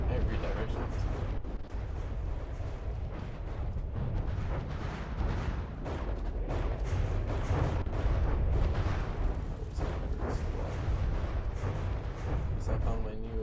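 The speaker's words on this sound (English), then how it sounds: "Missiles coming in from every direction at this point." Missiles firing and exploding in a robot battle video game, a dense run of repeated booms and bursts that stacks up close and loud, with hardly a pause between blasts.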